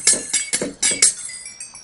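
Several quick, bright chiming clinks in a rapid series from the old Minecraft experience level-up sound, each short and glassy, close and clear with no talk.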